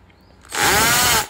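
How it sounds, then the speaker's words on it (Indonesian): A small electric drill bores a hole while a condenser microphone filter is being made, its motor whining up abruptly into a loud, harsh grinding burst lasting under a second before cutting off. "Ini kemudian kita bor kecil dulu."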